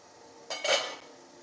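A lid comes off a pot of steamed kozhukattai with a short metallic clink and a scraping rattle lasting about half a second, close by in a quiet room.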